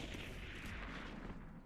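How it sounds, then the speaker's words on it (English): A single Marshall sniper rifle shot in a video game during a tournament grand final match, a dense, loud blast with a rumbling tail that fades across the moment. "Yeah, depending on Panda, they get a insane Marshall headshot"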